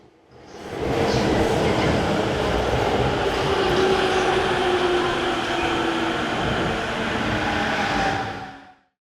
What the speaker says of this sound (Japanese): ゴーッと特急列車がホームに風を巻いて走り去っていく。